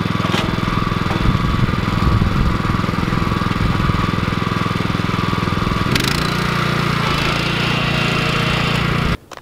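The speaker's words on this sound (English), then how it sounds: "This is the BCS. So this is considered a two-wheel walking tractor." A BCS two-wheel walking tractor engine runs steadily at close range with a loud, rough putter, its pitch shifting slightly partway through before it cuts off at the end.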